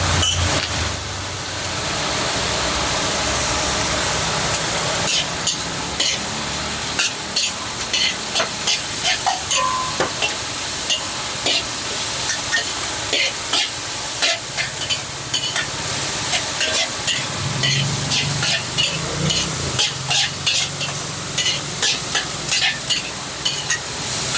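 Basil pad kaprao stir-fried in a wok sizzles and hisses continuously, broken by rapid, rhythmic scraping and clanking of a spatula against the metal, loud and close.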